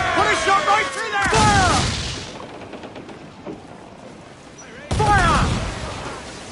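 Ship cannons boom repeatedly in the pirate game Assassin's Creed Black Flag, loud bursts with crashing impacts, while crew voices shout over the battle.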